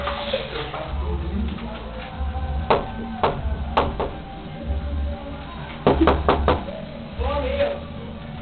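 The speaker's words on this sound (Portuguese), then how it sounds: "Vamos bater na porta da família." Knocking on a bathroom door comes as several separate sharp raps and short clusters of knocks, close and fairly loud, over steady room noise and voices.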